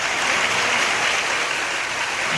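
Audience at a college induction program clapping, a dense, steady wash of applause from many hands that carries evenly through the whole stretch with no speech over it.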